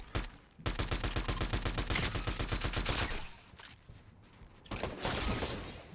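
Rapid automatic gunfire in a first-person shooter match on a mountain: a sustained, loud volley of close shots for about two seconds, then a pause and another shorter burst.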